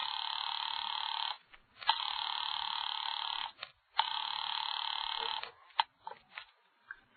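A telephone rings in three long, shrill bursts separated by short pauses, followed by a few faint clicks and knocks.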